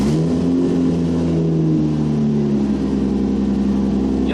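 A Toyota Supra engine running rough with a faulty air-fuel ratio sensor is revved hard, a loud sustained mechanical roar that climbs in pitch and then settles back toward idle, heard close by with no talking.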